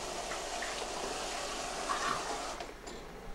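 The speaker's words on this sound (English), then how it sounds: "To dissolve the coating, you must rinse egg under lukewarm water." Lukewarm tap water runs steadily over an egg, a continuous close splashing wash with a brief shift in the flow near the end.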